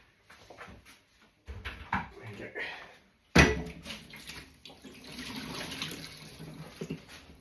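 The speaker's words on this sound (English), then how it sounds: "I need to fill the kettle up first, I think." Water runs from a tap into a kettle in bursts, with clattering and handling noises nearby, the flow steady toward the end.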